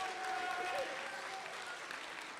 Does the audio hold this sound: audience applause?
yes